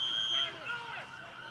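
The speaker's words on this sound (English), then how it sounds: "You can hear the siren going off." A police siren goes off at a protest, its wavering tone rising and falling over crowd noise and voices talking nearby.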